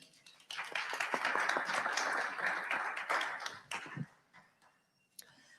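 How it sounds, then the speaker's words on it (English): Audience applause at a World Cup salon event, a dense burst of clapping that rises quickly, holds steady for a few seconds, then fades out to near silence with a couple of stray claps at the end. "Please give a round of applause for Elischa."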